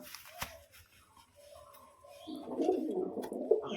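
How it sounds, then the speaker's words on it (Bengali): Pigeons, shown as a pair with red-bordered wings, coo softly with low murmuring calls that swell and grow busier over the final second and a half, with a brief click early on and no talking. "যে নর পায়রা"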